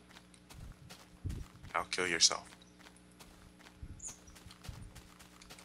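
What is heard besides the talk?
horse hooves clip-clopping in the MineZ video game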